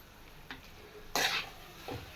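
Potatoes frying in a pan with kasuri methi being added, heard as a few brief scraping stirs with faint sizzle, one louder burst in the middle and a softer scrape near the end.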